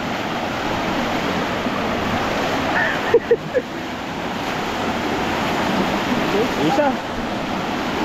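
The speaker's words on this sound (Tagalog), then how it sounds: "Ang lakas po ng agos oh. Lumalakas po yung tubig." A strong river current rushes steadily, a broad continuous wash of flowing water with wind buffeting the microphone, and a voice breaks in briefly over it.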